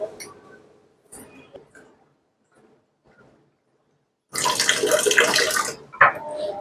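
Strong alkaline water from an Ionia water ioniser pours steadily for about a second and a half, loud and close, after quieter handling noises and brief clinks.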